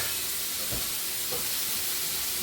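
Steady broadband hiss and gentle sizzle of food simmering in a lidded cast iron pan on low heat, continuous and close, with a couple of faint soft bumps.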